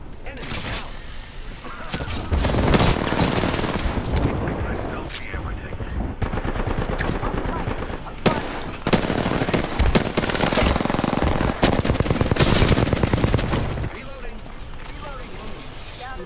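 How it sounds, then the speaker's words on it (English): Rapid bursts of automatic gunfire from an Apex Legends match crackle loudly and almost continuously, with dense exchanges and brief pauses, layered over other game sounds. "I am taking fire, friends."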